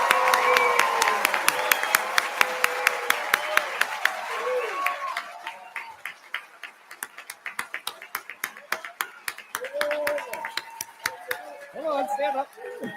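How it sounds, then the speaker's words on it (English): At a Fourth of July citizenship ceremony, the audience applauds with a burst of clapping that thins into scattered, sharp individual claps, while people talk beneath it. "How about one last rousing applause for our fellow citizens?"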